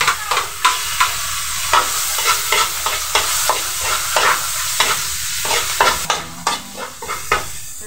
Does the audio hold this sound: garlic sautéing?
yes